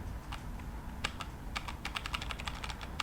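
Computer keyboard being typed on to fly a plane in Microsoft Flight Simulator, irregular clusters of quick clicking keystrokes over a steady background hum, close and fairly faint, no talking.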